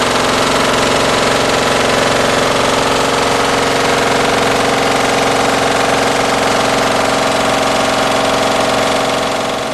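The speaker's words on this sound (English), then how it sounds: "By pushing the green button, we'll start the Geno grinder running." SPEX Geno/Grinder 2010 laboratory tissue homogenizer running steadily, a loud continuous mechanical drone with a dense vibrating rattle and strong low hum, unchanging throughout with no talk.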